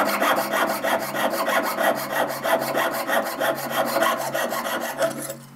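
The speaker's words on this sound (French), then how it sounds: "fais gaffe à pas te plaquer la lame de scie en rond." A saw blade cuts through a handmade ring, producing fast, even back-and-forth rasping strokes close up that continue steadily before stopping.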